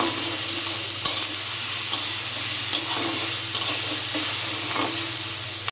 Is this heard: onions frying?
yes